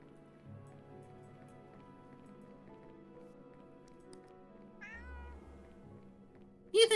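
A cat meows in the video game Cats and the Other Lives, a short, rising meow near the end over quiet game music, with a louder burst right at the close.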